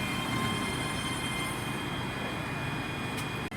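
A ScotRail Class 385 electric train departs Stirling station with a loud, steady rumble of wheels and motors, close and continuous, with no speech.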